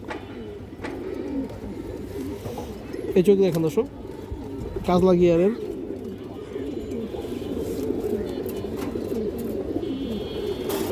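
Pigeons, including a big patterned male, cooing in a loft, with two soft coos rising over steady background chatter while someone talks throughout.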